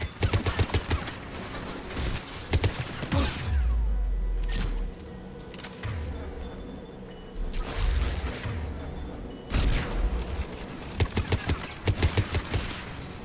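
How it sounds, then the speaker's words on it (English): Anti-aircraft guns firing in Mass Effect 3: rapid bursts of heavy automatic fire, loud and close, broken by deep booms and brief lulls before the fusillade resumes. "There, the anti-aircraft guns."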